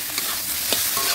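Chopped banana flower stirred into a pan of cooked-down spices, giving a steady sizzle and frying hiss with soft scraping stir strokes, close and fairly loud, no voices.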